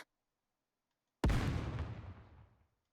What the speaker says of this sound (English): A series of explosions erupt out of Behemoth's abdomen and head.